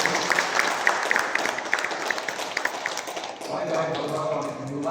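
Audience applause at a Bengali cultural inauguration as a garland is offered to a bust of Rabindranath Tagore, a spell of brisk crowd clapping that fades out partway as quieter background sound takes over.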